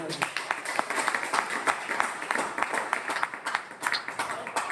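A seminar audience claps in a brief, uneven burst, with individual slaps standing out over a murmur of voices in the hall.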